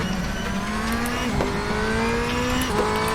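Simulated DTM 2013 BMW M3 race car howling around Laguna Seca in RaceRoom, a loud sustained engine note that rises in pitch, briefly dips at gear shifts near 1.4 and 2.7 seconds, then climbs again, with no talking.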